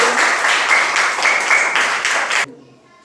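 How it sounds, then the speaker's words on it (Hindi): A group of children claps together in a classroom in a quick, steady burst for a couple of seconds, then it stops abruptly, leaving a quiet room. "बहुत सही, ताली बजाइए।"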